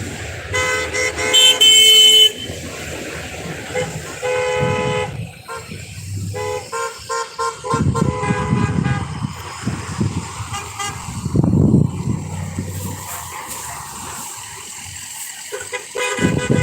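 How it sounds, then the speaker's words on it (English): Car and truck horns honk repeatedly at a Freedom Convoy protest, with long toots and short blasts overlapping traffic rumble, some near and loud, others farther off. "Honk for freedom."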